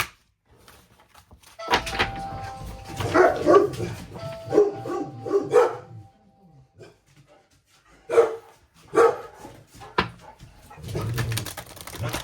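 A dog barks in several loud, close bursts with gaps between them as the mail carrier arrives, and pigeon-like cooing also sounds in the background.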